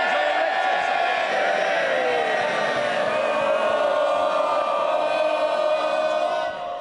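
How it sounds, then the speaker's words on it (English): MPs in the House of Commons give a sustained, loud roar of cheering and shouting that fills the chamber from start to finish with many overlapping voices. The din fades slightly at the very end. "the biggest day in the House, and you want to carry on cheering?"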